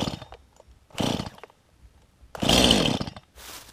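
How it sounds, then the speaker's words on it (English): Stihl MS 171 chainsaw being pull-started: three separate bursts of cranking and sputtering turnover, with a brief fourth at the end and quiet gaps between, close and fairly loud. "I'm going to crank it until it turns over."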